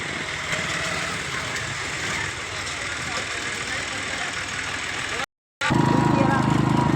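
A motorcycle engine idles steadily close by while the rider sits on the bike, a constant rumble with a short cut near the end.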